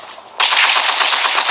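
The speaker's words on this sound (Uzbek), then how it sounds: "Katta otishma bo'lyapti" Rapid automatic gunfire in a shooting video game bursts in suddenly after a short quiet moment and keeps going as a loud, dense, rattling stream.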